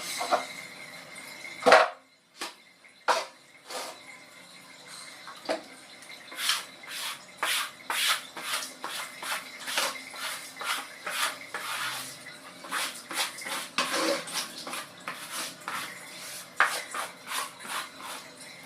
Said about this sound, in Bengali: থালা বাসন চলো ধুয়ে নিই